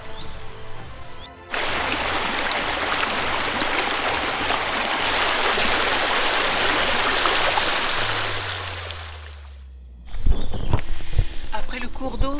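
A stream flows outdoors as a steady, full rush of water that holds for most of the stretch, then cuts off near the end, followed by louder close handling noises.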